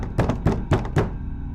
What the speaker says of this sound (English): just one slow knock.